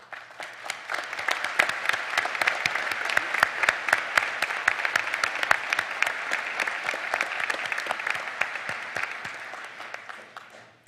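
A commencement audience gives the faculty a long, steady round of applause, dense clapping from many hands swelling quickly and fading out after about ten seconds.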